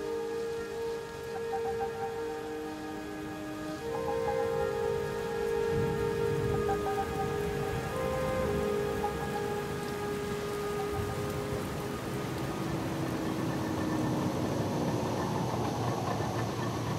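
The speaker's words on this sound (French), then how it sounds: "Au petit matin, sous un violent orage, nous reprenons notre route" Heavy rain falls steadily during a violent early-morning thunderstorm, a dense continuous patter with a low engine-like hum and tonal drone running beneath it throughout.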